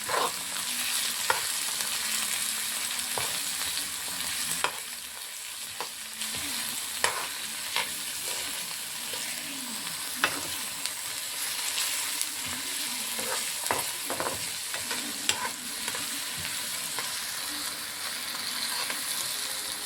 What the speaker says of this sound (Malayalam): ഇനി നമുക്ക് കുറച്ച് തക്കാളി ഇടാം. ഇനി കുറച്ച് ഇളക്കി കൊടുക്കാം.